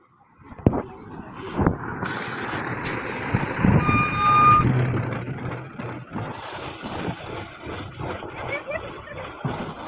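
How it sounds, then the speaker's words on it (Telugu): A bus pulls in at a stop near the Lakshmi Narayan Temple in Rayagada, its heavy engine rumbling close by with a horn toot and a high beeping, while people talk throughout. "ఒక బస్సు వస్తుంది ఆ బస్సులోనే వెళ్ళాలి మేము"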